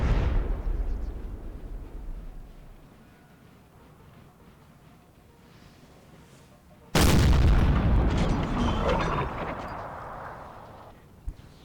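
Cannon fire in the Napoleon: Total War strategy game, a British artillery battery firing on French troops: a low rumbling battlefield bed, then one sudden heavy boom at about seven seconds that rolls on loudly before fading, with a small late pop.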